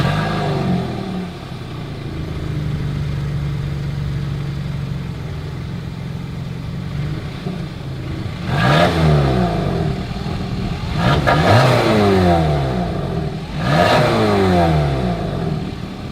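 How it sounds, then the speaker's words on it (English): Exhaust of a 2023 Kia Sportage: a steady idle at first, then three sharp revs climbing and falling back, each a rising, raspy burst heard close up with no talking. "As always, here is that exhaust clip."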